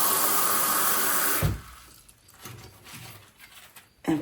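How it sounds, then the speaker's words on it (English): Water running from a tap into a container to hold coleus cuttings, a loud continuous rush that stops abruptly, followed by faint handling and a brief final splash. "fill your container with some water"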